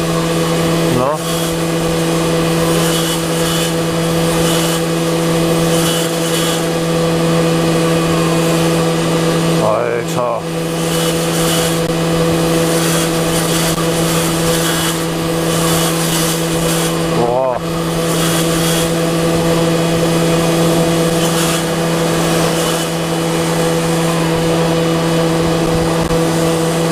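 A car engine held at high revs, producing a loud, steady, droning whine that holds a constant pitch, with a couple of brief dips and swoops along the way.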